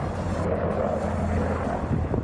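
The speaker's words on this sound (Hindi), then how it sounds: "तभी उसके पीछे एक और हेलीकॉप्टर उड़ता हुआ दिखाई दिया" A military helicopter flies in war footage from the Russia-Ukraine war, a steady, loud rotor-and-engine drone with wind buffeting, continuous through the short stretch and without talk.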